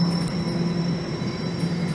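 Train at a Toronto transit station, a steady low rumble with a faint metallic wheel whine, moderately loud and with no talking.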